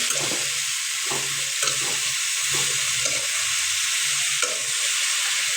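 Leafy greens gently stirred and turned while frying in oil with onion and garlic, a continuous close sizzle broken by soft rhythmic scrapes of the spatula every second or so.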